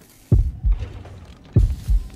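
A heartbeat effect from the horror video game Horrorfield, two deep thumping lub-dub beats about a second apart, low and heavy, heard alone without talk.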